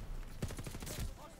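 Rapid bursts of gunfire shooting through a wall in Call of Duty Vanguard, a quick run of close, punchy shots over about a second with game ambience underneath.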